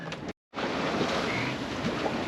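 Wind buffets the microphone over a continuous wash of sea waves on a sailing voyage, loud and steady apart from a brief cutout near the start.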